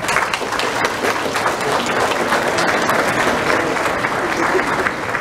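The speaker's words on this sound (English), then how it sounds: "Class, will you help me give them a round of applause?" A school class claps loudly for visitors, a dense and steady burst of applause lasting throughout with a faint crowd murmur underneath.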